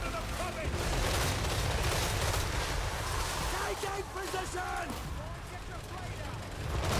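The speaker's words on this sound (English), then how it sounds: "But the volley guns are doing some damage." Empire volley guns firing in a Warhammer battle, a dense, continuous crackle of massed gunfire with booming low rumble throughout, while someone talks over it.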